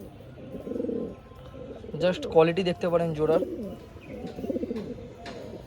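A breeding pair of Kalshila pigeons, one male and one female, coos in low, rolling phrases near the microphone while someone talks over them, with softer cooing continuing between his words.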